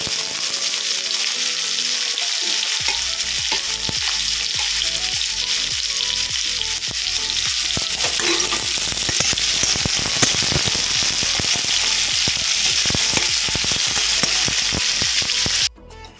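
Asafoetida dropped into hot oil in a home kitchen, giving a loud, steady sizzle with crackling pops that keep going for many seconds before cutting off abruptly.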